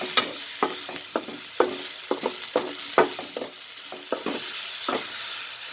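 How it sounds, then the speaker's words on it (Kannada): Turmeric and salt fry in a pan for aloo beetroot palya, a steady sizzle broken by frequent scraping taps of a spoon stirring against the pan, close and lively with no voices. "ಓಕೆ, ಫ್ರೈ ಮಾಡೋಣ."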